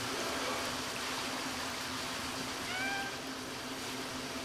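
Cats meowing in the video game Stray, a couple of short, faint mews rising over a steady rushing water-like background ambience, with no talk.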